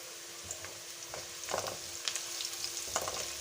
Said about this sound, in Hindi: 3 से 4 कलियाँ लेके ना, ये इसमें लहसुन डाल देते हैं